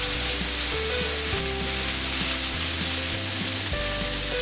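Corn with red and green bell peppers frying in a pan, a steady close sizzle and hiss with occasional stirring, loud and continuous with no voices; tonal hum lines run underneath.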